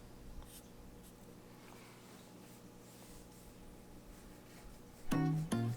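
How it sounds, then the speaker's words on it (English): A pen sketching short little lines on paper for a cartoon drawing, faint soft scratches repeating at an uneven pace under a low steady hum, with a brief louder burst of other sound near the end. "We're just going to draw a couple little lines."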